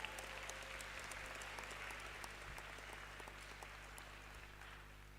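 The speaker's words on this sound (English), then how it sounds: "Applause." Applause from a crowd at a university graduation ceremony, heard faintly and steadily as a distant wash of clapping in a large venue, with a low hum underneath.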